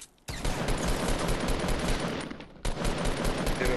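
Rapid automatic gunfire in Fortnite rattles on in a dense, loud stream, breaks off briefly, then resumes just as heavy to the end.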